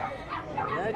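A dog at a highland market yips and barks in short bursts amid busy crowd chatter and nearby voices, with the dog sounds close but partly buried under the talk.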